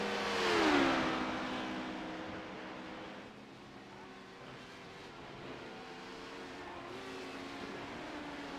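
Racing engines of GT3 and LMP2 sports cars pass with a Doppler pitch sweep near the start, then keep up a steady, fainter tonal drone as the cars run on, with a commentator talking over them.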